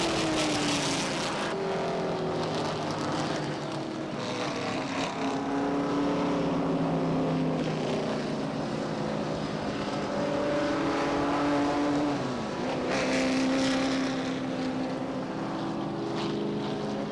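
Stock race cars circle under caution at Beech Ridge Motor Speedway during the 1990 ACT Coca-Cola 200, engines droning at moderate distance with rising and falling pitch as cars pass, continuous and without speech.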